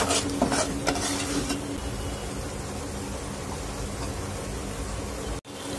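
Masala with red chili powder sautéing in oil: a steady, loud sizzle that runs throughout, with a few stirring scrapes early on and a brief break near the end, no talking.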